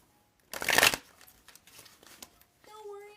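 Tarot cards riffle-shuffled close by in one dense half-second burst, followed by a few lighter card flicks and handling rustles, with faint speech or tones near the end.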